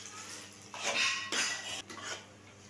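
A metal spatula stirs eggs in hot oil in a kadai, making a few close scraping and clinking strokes against the pan in separate bursts, with quiet gaps between them.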